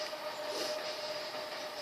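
A train rumbles steadily past, close to an indoor spot, as a continuous broadband roar with a faint sustained tonal whine and a constant level throughout, no talking.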